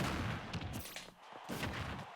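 Min Min's arm gun firing in the fighting video game, a dense burst of loud, crackling game shots packed into about two seconds, with a brief dip and then another volley, no talk.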